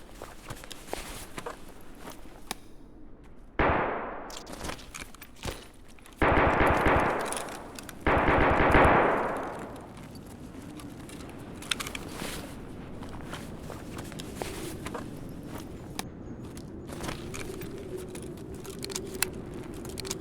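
Bursts of automatic gunfire ring out while shooting scavs in a first-person shooter game, with scattered single shots and footsteps between two long, loud volleys.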